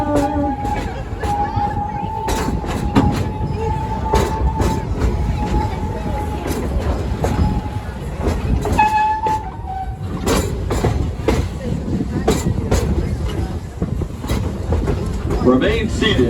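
Serengeti Express train ride at Busch Gardens Tampa Bay: a continuous rumble and clatter from the moving train, with a narrator talking over it and a brief high squeal.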